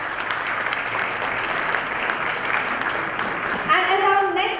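Sustained audience applause at a youth awards ceremony, dense steady clapping from a large crowd, loud and even, with a voice over a speaker system joining near the end.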